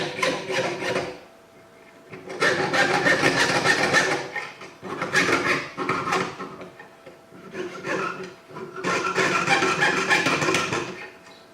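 A jeweler's saw cuts through copper sheet to shape an octopus pendant, producing close, raspy back-and-forth strokes in four sustained bouts separated by short pauses.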